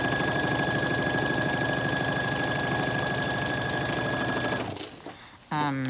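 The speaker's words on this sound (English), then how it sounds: "just stitch all along the line, or a quarter of an inch" Sewing machine running continuously while stitching face mask fabric along a quarter-inch line, a close, steady whirring hum that stops near the end, followed by a brief rustle and a short tone.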